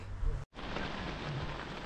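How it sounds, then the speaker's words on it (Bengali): Rain falling outdoors on a road trip stop makes a dense, steady broadband patter, close and moderately loud, briefly cutting out for a moment before resuming evenly. "তবে বৃষ্টিটা খুব ভালোই পড়ছে"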